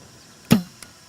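A propane weed torch lighting up in a vegetable garden: a single sharp whoosh-pop of ignition, loud and close, fading over a fraction of a second, followed by a faint small click.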